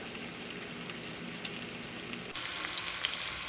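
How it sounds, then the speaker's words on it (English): Sausages sizzle steadily in a frying pan as part of a brunch for one, a dense crackling hiss that grows slightly louder and brighter partway through, with no voices. "here we have just flipped the sausages"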